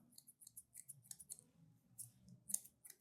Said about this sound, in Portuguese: Eu vou ter que dar um pouco mais de tesourada com a tesoura dentada